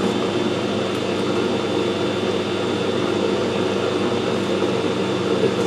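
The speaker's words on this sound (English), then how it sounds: "We'll start the lathe up." A metal lathe set up for external screw cutting runs with a steady, even mechanical hum and drone, moderately loud and continuous, with no voices.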